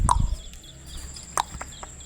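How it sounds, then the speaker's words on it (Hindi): Domestic hens in a backyard on a hot day giving a few short clucks and squawks, fairly close, with quiet gaps and light movement noises between calls. "यहाँ पे आ गई हैं मेरी मुर्गियाँ।"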